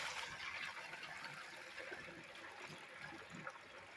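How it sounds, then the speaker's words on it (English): Blue water pours steadily into a bucket used for filtering gold from SD cards, giving a continuous close trickling and splashing flow for the whole stretch, with no talk over it. "we're going to pour some blue water into this right here"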